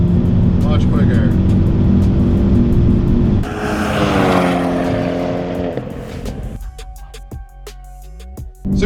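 A car with a DCT transmission launches hard with a little wheel spin; its loud engine revs climb steadily, then drop sharply at quick gear shifts before pulling again, close and continuous.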